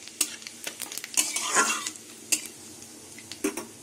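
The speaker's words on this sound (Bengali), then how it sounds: "তেল গরম হয়ে গেছে। তেজপাতা, শুকনো লঙ্কা আর গোটা জিরে ফোড়নে দিয়ে দেবো।" Bay leaf, dried red chilli and whole cumin seeds hit hot oil in a pan, giving a sharp crackling sizzle with spattering pops and stirring clinks, close up and without voices.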